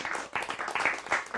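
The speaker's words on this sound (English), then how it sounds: "let's just give a round of applause for the mystery Scandinavian in the audience" Songwriters' showcase audience clapping in steady, dense applause, moderately loud and sustained throughout without any talk over it.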